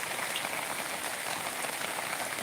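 Heavy rain pours down steadily around a house that is taking in floodwater, a dense, even hiss of drops with no pauses, close and fairly soft.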